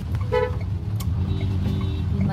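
A car horn gives a brief toot over steady road and engine rumble heard from inside a vehicle, moderately close, with faint traffic noise continuing underneath.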